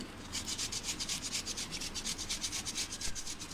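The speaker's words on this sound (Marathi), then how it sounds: "आणि अशा प्रकारे मी जे अर्धा किलो बटाटे घेतले आहेत ते मी छान असे किसून घेते." Half a kilo of boiled potatoes being grated for Parsi-style egg cutlets, a quick rhythmic rasping of repeated close strokes that continues steadily throughout.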